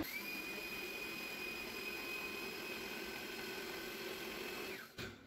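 An electric blender grinds half a cup of raw rice in its jar for kheer, a steady high motor whine with a gritty rattle of grains running continuously before cutting off abruptly near the end.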